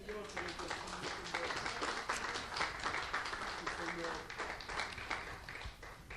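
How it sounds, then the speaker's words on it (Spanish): A church congregation claps in praise of the Lord during a Spanish-language Bible class, a dense, moderately loud applause sustained throughout with voices mixed in. "Eso merece un aplauso para el Señor"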